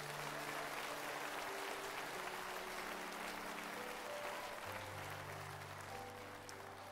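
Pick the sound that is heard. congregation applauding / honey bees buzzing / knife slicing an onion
congregation applauding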